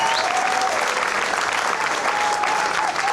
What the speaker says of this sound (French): Je voudrais que vous applaudissiez très fort pour la Fondation Poignet Françoise.